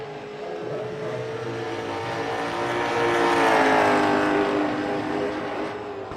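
Late model race car engine droning through a lap at a USA dirt track, a steady loud roar that swells in pitch and volume mid-lap and then eases slightly as the car moves on.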